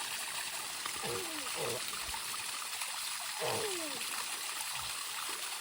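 Strong flow of water gushing and splashing while water is being fetched, a steady broadband rush heard close up, with brief voices in the background.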